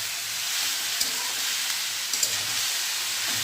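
Steady sizzling hiss of chopped bottle gourd frying in a hot tempering of cumin, bay leaf and dried red chilli, continuous and fairly loud with faint clinks of stirring.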